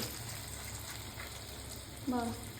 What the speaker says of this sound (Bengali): পেঁয়াজ ক্যাপসিকাম আদা কুচি রসুন কুচি কাঁচা লঙ্কা হ্যাঁ। একটা হয়ে গেল অল্প অল্প করে ভেজে নিতে হবে